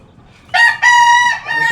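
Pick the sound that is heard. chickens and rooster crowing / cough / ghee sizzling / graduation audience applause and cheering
chickens and rooster crowing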